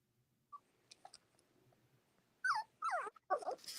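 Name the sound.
puppies whimpering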